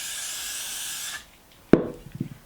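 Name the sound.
spraying Got To Be hair spray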